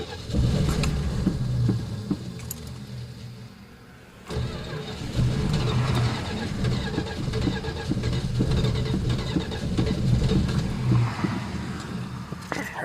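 A 1980 car with no gas in it tries a cold start. The engine cranks and briefly catches, rumbling at close range and dropping off near four seconds, then turns over again with uneven revving through to the end.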